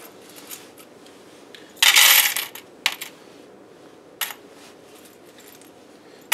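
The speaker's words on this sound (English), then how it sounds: "So I'm going to start with bundles of 50 gems." Bundles of 50 plastic gems dropped onto a weighing scale in a classroom measuring demonstration, one main clattering spill followed by a few brief lighter clicks against a quiet background.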